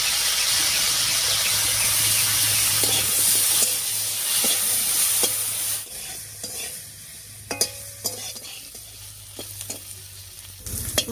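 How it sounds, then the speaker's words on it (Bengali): Chopped dried fish with a little salt and turmeric fries in hot oil in a wok: a loud hissing sizzle at first that eases off, then a quieter crackle broken by sharp scraping stirs. "এবারে এই তেলের উপরে দিয়ে দিচ্ছি কেটে রাখা শুটকি মাছ"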